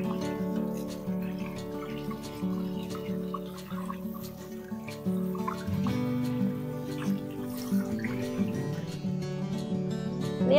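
A drinking glass being rinsed under water after scrubbing off limescale, with dribbling and gurgling water and light clinks against the glass, steady and close throughout.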